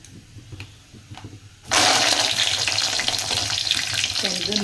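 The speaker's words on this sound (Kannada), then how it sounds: "ಈಗ ಸ್ವಲ್ಪ ಇದರಲ್ಲಿ ಕರಿಬೇವನ್ನ ಹಾಕ್ತೀನಿ." Curry leaves dropped into hot oil in a pan erupt into a loud, sudden crackling sizzle that keeps spitting steadily close by after a quieter start, with no one talking.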